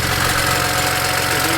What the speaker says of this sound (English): there's an exhaust rattle